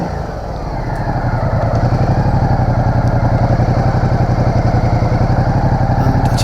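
A 2015 Ducati Multistrada DVT motorcycle with keyless start idles close by, its engine a loud, steady low-pitched thrum with rapid even pulses throughout.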